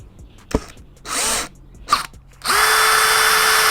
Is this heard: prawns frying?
no